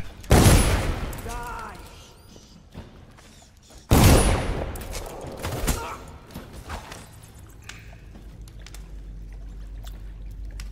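Two loud, close blasts from a gun in the Dishonored video game, each followed by a long decaying roar and clatter, with quieter scattered game sounds between and after them.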